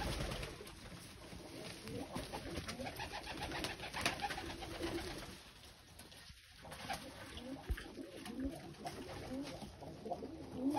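Hungry pigeons coo over and over in a loft where their feeding came late, a steady chorus of soft, throaty calls layered close and moderately loud with no talking.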